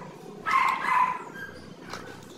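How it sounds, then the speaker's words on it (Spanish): Dogs bark nearby, one sustained yappy burst followed by a fainter short bark, heard alone against quiet indoor background. "Ya nomás cuando me pongo a grabar empiezan a ladrar."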